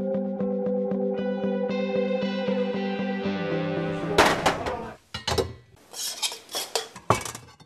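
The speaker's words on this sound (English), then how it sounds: "These pots are banging for a very good reason." Pots being banged together as revolutionary noisemaking, first a steady ringing metallic rhythm of repeated strikes, then a run of louder, sharper irregular clangs and crashes, close and alone with no talk.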